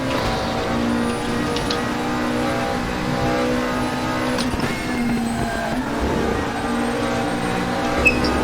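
McLaren 650S GT3 race car engine in the RaceRoom racing game at Suzuka, a loud sustained harmonic engine tone with slight pitch changes, steady and close throughout with no speech.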